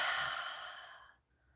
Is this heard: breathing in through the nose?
yes